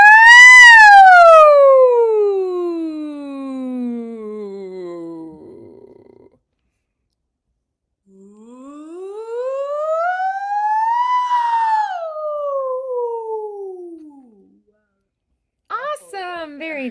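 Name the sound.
voice imitating a siren in a singing lesson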